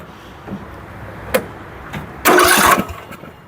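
An engine cranks over in a short, loud burst of starter churning, preceded by a few faint clicks and knocks.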